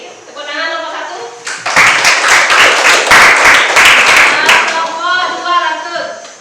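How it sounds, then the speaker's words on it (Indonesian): A high school class claps together in a brisk, loud burst of rhythmic hand claps lasting about three seconds, with a teacher talking before and after. "Oke, tepuk tangan nomor 1."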